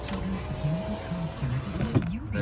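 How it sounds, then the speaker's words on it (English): Rear power window motor of a 2004 Volvo XC70 after a glass replacement, whirring with a rhythmic mechanical buzz as the glass travels up and down, over a low steady background and ending in a quieter tail. "You see, the window is up and down."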